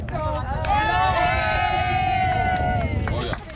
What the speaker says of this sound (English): So we have the cheer crowd.